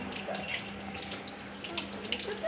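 Water pouring and splashing steadily over a dog during a bath, a continuous close running-water sound with faint background noise.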